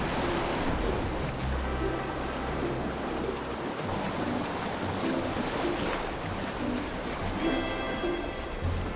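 Raging surf churns against a rocky shore where rockhopper penguins come ashore. The wash rushes continuously and turbulently, with low rumbling swells beneath the spray.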